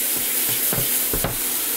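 Tomatoes sizzle steadily in a frying pan while being cooked for a pork gratin, a constant hissing fry with a few soft clinks and scrapes of a utensil against the pan.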